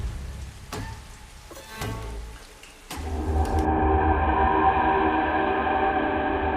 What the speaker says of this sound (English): The rain had been falling for 7 days straight.